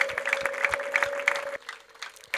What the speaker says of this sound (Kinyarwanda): tumuhereza amashyi n'impundu